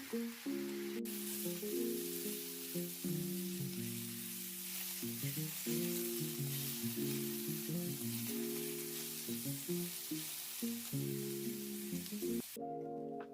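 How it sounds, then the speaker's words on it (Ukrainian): Steady sizzling of mushrooms frying in a pan, with a musical melody playing over the hiss throughout. "Гриби смажимо до золотистої скоринки."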